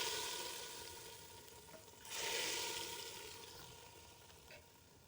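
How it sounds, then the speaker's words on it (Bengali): Hot oil left from frying onions poured into a pot of haleem, giving a steady close sizzle that swells briefly, then settles into a softer frying hiss with no voices. "বাকি তেলটা আমি এই যে হালিমের মধ্যে দিয়ে দিচ্ছি।"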